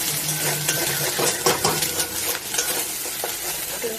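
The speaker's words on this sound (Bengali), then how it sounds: "ডিম ভেজে নেবো। ডিমের সঙ্গে নুন দিয়ে দেবো।" Egg frying in a pan with salt and being stirred: a close, steady sizzle under repeated scraping stir strokes, loud and continuous with no voices.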